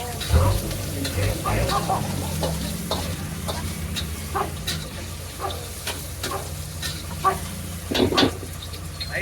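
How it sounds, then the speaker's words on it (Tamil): Tomatoes and capsicum sauté for chilli parotta, a steady sizzle with intermittent scraping stirs of a spatula in the pan, loud and close throughout. "தக்காளி, குடமிளகாய், இதெல்லாம் நல்லா வதக்கிக்கலாம்."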